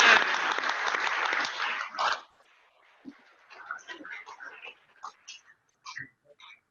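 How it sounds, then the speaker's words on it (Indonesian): An audience applauds for two badminton athletes, dense clapping for about two seconds that then stops abruptly, followed by a few faint scattered sounds and light voices. "Beri tepuk tangan."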